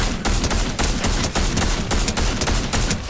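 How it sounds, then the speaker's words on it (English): Sustained automatic gunfire in the Fortnite video game aimed at a shark, a loud continuous burst of rapid shots with brief pauses, filling the whole stretch with no talk over it. "Let me keep shooting this shark, I guess."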